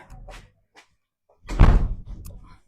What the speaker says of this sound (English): That door always slams so loud.